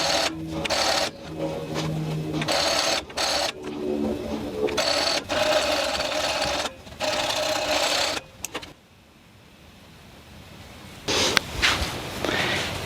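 A sewing machine runs in a series of close, steady bursts as it stitches a dress seam from the sleeve hem down to the dress hem. It pauses briefly between runs, then falls silent for a couple of seconds before starting up again.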